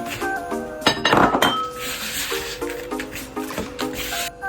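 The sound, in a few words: stirring sugar and baking soda in a glass bowl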